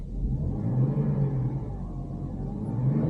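A BMW E60's engine revs under throttle, a steady low rumbling drone with a slight rise and fall, close and loud with no other sounds.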